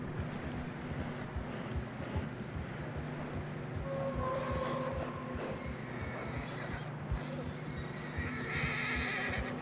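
Horses in Red Dead Redemption 2 whinny and snort over steady hoof thuds in deep fresh snow and a low wind rumble, with a voice speaking briefly amid the noise.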